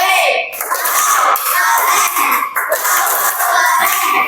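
A classroom group of children claps and chants together in a loud, busy burst of rhythmic hand claps and voices, with crowd-like shouting throughout.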